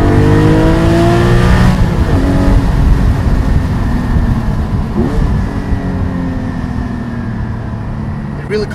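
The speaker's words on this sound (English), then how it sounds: "third gear, we have the exhaust, and also doing the downshift" A Porsche 718 Spyder with a Cargraphic exhaust valve controller revs loudly in third gear, with rising and falling exhaust tones as gears shift down, roaring continuously and close by.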